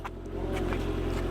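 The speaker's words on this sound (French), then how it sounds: "Là, c'est un moteur électrique, à l'arrière ça fait du bruit." A Renault Mégane with its motor mounted at the rear runs in a short, steady, droning hum at moderate loudness, with no break in the sound.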